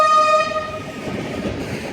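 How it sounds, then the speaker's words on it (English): Train horn blaring at a level crossing on the Mediterranean Corridor at Salou, Spain: a loud, sustained multi-tone blast that fades into the rumble and clatter of the passing train, no talk. "No wonder they have to bloody sound the horn about 600 times"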